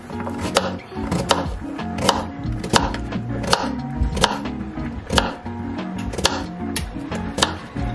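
A knife slices peeled sweet potatoes into medallions on a cutting board, sharp knocks repeating in a steady rhythm roughly every half second, close and clear with no talking.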